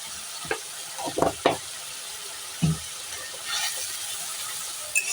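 Lightly spiced masala with salt, turmeric and a little water being fried for ghugni, with a faint sizzle under several sharp spatula scrapes and knocks against the pan. No one talks.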